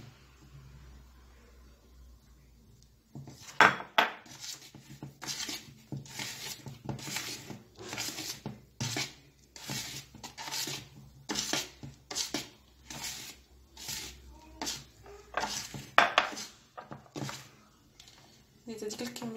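Rhythmic soft scraping and swishing of a spatula folding flour into airy Swiss roll sponge batter in a bowl, repeated strokes at a steady pace, close and fairly quiet.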